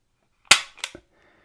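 An HK P8 A1 pistol, the German Army service model, is dry-fired: a sharp, close metallic snap as the hammer falls, followed by two quicker, softer clicks of the mechanism, then silence.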